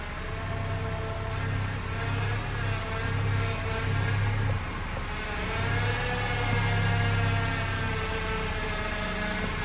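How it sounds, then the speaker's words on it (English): A 2003-2007 Honda Accord's failing power steering pump whines steadily while the wheel is turned, a sustained tonal drone layered over the idling engine's low hum, heard close with no talking. "So the issue is with the power steering pump."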